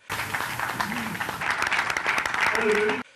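Applause in a council chamber as a three-year programme is adopted by acclamation, dense continuous clapping under a news anchor's narration that stops abruptly at the end.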